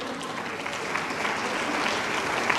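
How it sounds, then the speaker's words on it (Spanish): Steady applause from a church congregation, dense and sustained, fairly close and filling the room with no voices above it. "Un aplauso para esas hermanitas que yo amo tanto"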